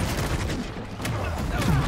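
A dense, rapid burst of gunfire sounds in the video game Marvel's Spider-Man 2, with crackling shots layered over rumbling game effects, loud and close throughout.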